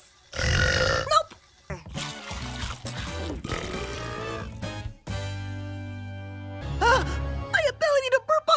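Several loud, drawn-out burps come from cartoon characters, separated by pauses, with voices talking between them.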